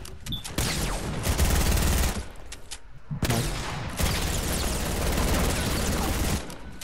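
Video game gunfire, dense and sustained bursts of rapid automatic shots filling most of the stretch with a short pause in the middle, loud and close.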